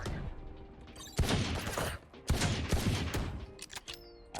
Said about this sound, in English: How'd I get hit by that turret?